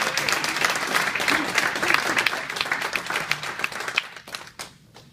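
An audience applauds to welcome Camila Chavez at an evening event, steady dense clapping that is loud for about four seconds and then fades out.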